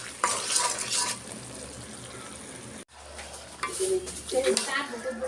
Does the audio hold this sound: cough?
no